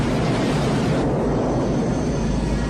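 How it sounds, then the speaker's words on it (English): A Scorpion attack helicopter flies in an action movie scene, a loud, dense, continuous engine roar that fills the whole moment without a break. "we saw the Scorpion attack helicopter"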